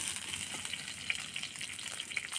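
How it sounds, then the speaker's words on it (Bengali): Drumstick pieces (sajne danta) fry in a pan, a faint, continuous hissing sizzle with small pops, close but quiet, with no voices. "আবার সজনে ডাঁটা দিয়ে ভালো করে আরেকটু ভাজা ভাজা করে নেব।"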